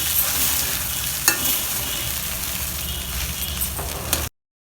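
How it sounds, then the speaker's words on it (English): Puli aval stirred and fried in a pan over a low flame, a steady loud sizzle with a few scraping strokes of the spoon, close and continuous before cutting to silence at the end. "Reduce the flame and mix it all thoroughly and just cook for a couple of minutes"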